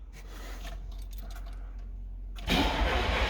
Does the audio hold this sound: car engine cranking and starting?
yes